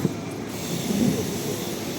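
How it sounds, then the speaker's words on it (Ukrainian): A tram passes through the historic city centre of Lviv, a steady low rumble of rail wheels and motor swelling slightly at mid-point, moderately close, with no talk. "Трамвайчик."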